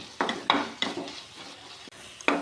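A spoon scrapes and stirs a thick, sticky mixture of jaggery, banana and dates in a pan, several distinct close strokes with a soft gooey sizzle between them and no talk.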